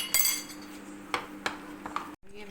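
Spoon clinking against a bowl while spices are stirred into dahi bhalla batter, a few sharp metallic taps spaced out over a low steady background hum.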